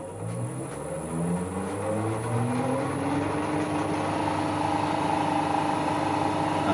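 A machine in a fabrication shop runs steadily at a slow 85 RPM while a 3 point linkage pallet fork and bale spike attachment is being made, a continuous even hum with drifting tonal lines and no talk.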